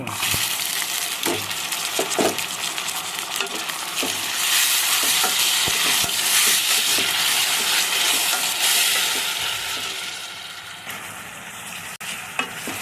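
Tomato pieces and ginger garlic paste stirred in a hot pan for a gongura meal maker curry, loud continuous sizzling with repeated spatula scrapes and knocks, easing off near the end, no voices.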